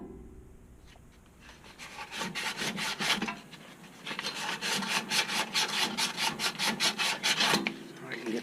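Metal pulley being worked off a smooth A/C condenser fan motor shaft by hand, giving repeated rhythmic scraping and rubbing strokes, close and steady, with no talk.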